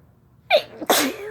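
Two loud, close sneezes caused by chhinkni powder follow one another within half a second, the second harsher and longer, with a breathy tail and no talking.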